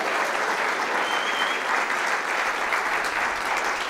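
A conference audience in London cheers and applauds at an opening breakfast panel, steady dense clapping and crowd noise filling the whole stretch at close range without letup.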